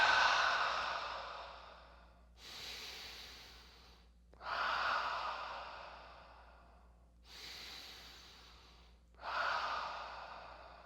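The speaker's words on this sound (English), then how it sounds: "3 deep breaths." Deep, slow breathing during a fitness cool-down after stretching: a long breath out, then a quieter breath in, repeated across several cycles, close and clear with no talking.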